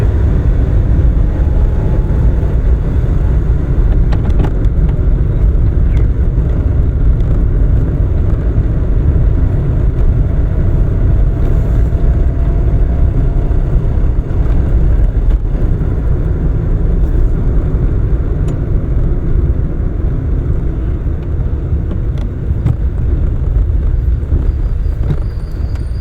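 A car cruises in third gear during a driving lesson on an open road, a loud steady engine drone and road rumble running unbroken and close throughout.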